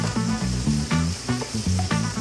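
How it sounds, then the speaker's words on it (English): Burger buns toast on a hot griddle with a loud, continuous crackling sizzle close by, over a rhythmic tonal backing that pulses throughout. "Got the buns, they're toasting up."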